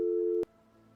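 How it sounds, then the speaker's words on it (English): A telephone tone sounds after a call is disconnected: a steady, clean electronic beep holds for under half a second, then cuts off with a click, leaving quiet line hiss. "The phone call was disconnected before I could respond."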